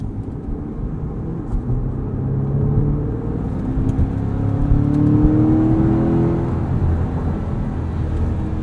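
A stock Chevrolet C8 Corvette sports car on all-season tires drives in winter, heard from inside as a steady low engine drone with a gently rising and falling tone and road hum throughout, no voices.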